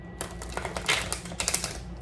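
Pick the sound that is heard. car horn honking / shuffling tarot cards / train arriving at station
shuffling tarot cards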